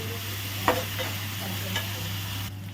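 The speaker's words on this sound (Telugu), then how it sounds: "అల్లం పేస్ట్ కూడా ఒకసారి బాగా ఫ్రై చేసేసుకోవాలి" Ginger paste frying in a pan for a bitter gourd and meal maker curry, with a steady low sizzle, a constant background hum, and a couple of brief stirring scrapes near the pan.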